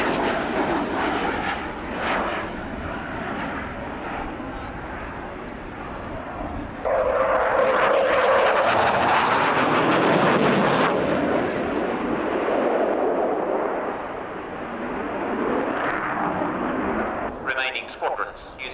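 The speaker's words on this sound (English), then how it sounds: "A look, therefore, at the McDonnell Douglas Phantom." A McDonnell Douglas Phantom jet flies at the RAF Abingdon airshow, a loud roaring engine that surges into a heavy rumbling pass mid-clip, with a voice talking over the aircraft noise.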